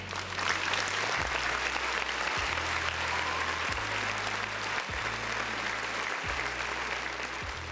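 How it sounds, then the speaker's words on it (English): Sustained, even applause from a crowd, a dense wash of clapping that holds steady throughout with a repeating low mechanical pulse underneath. "I want to give Paris a round of applause right now"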